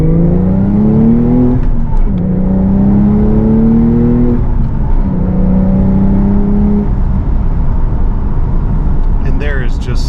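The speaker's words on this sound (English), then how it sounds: "Listen to this rev match." A 2023 Porsche 911 Targa 4 GTS with manual transmission, engine rev matching in second gear, three rising revs broken by quick blips during shifts, loud and close inside the cabin over steady road noise.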